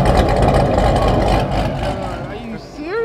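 A cammed, supercharged Corvette Grand Sport with catless headers rumbles loud and close in a steady, deep idle before easing off, with people talking near the end.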